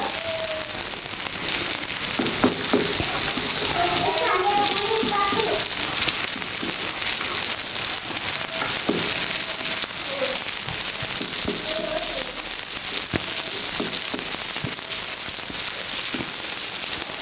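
Masala-coated bangda (mackerel) fries in hot oil in a pan: a loud, dense, continuous crackling sizzle that holds steady, with occasional sharper pops and brief faint sounds in the background.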